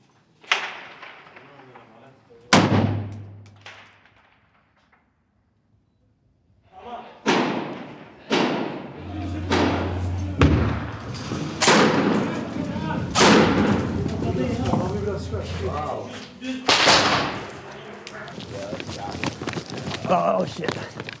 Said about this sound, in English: They're shooting from down.